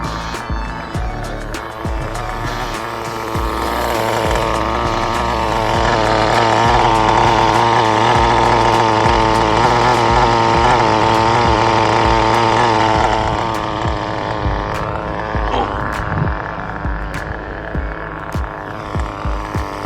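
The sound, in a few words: nitro RC car engine running (carbon fiber Nitro RS4 2)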